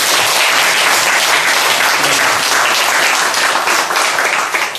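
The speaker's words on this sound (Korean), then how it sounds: "박수." Applause from the audience at a Buddhist dharma talk and discussion, loud, dense and sustained throughout with no voices over it.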